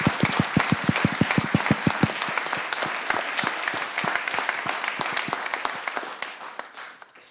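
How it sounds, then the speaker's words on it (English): Applause at a 49th District congressional forum for teachers and classmates, beginning with loud, closely spaced individual claps up front, then settling into a sparser, softer patter that thins out and fades by the end. "Please give another huge round of applause to our teachers and our fellow classmates for putting this all together."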